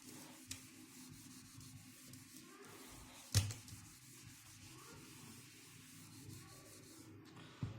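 Writing on a board is rubbed out with a faint, continuous scrubbing sound, with one sharper knock partway through.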